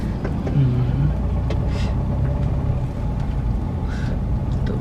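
Inside a car driving along a village road, a steady low engine rumble and road noise hold throughout, with a few faint knocks and passing sounds over the drone.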